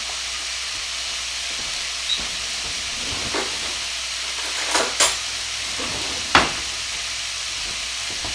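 Sausage cooking in a pan gives a steady, close hissing sizzle, with a few sharp pops and utensil clicks breaking through.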